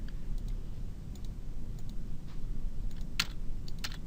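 Scattered computer keyboard key presses while working in software, a few sharp, light clicks at irregular intervals over a quiet room hum, close and fairly soft.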